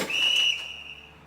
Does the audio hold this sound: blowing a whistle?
yes